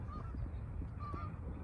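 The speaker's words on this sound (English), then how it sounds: "there's beautiful geese flying behind me" Flying geese give a few honks, two short calls in quick succession, faint and distant over outdoor background noise.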